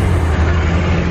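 Steady low rumbling wind and road noise roars through open car windows, loud and constant.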